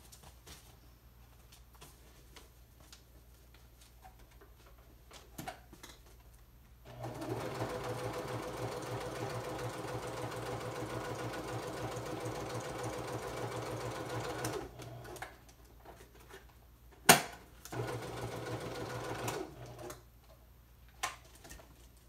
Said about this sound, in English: you're gonna hear the sewing machine